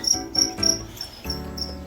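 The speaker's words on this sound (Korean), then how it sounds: "아래는 애들 먹인 귀뚜라미가 시끄럽게 우르대고 있고요." Feeder crickets kept as food for veiled chameleons chirp loudly in short repeated trills, close and continuous with no talking.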